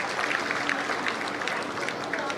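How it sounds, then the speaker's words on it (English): An audience at a Nigerian morning show event claps in sustained, dense applause, a steady wash of hands throughout with no clear voices. "A round of applause."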